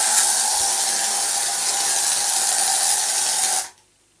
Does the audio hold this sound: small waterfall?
no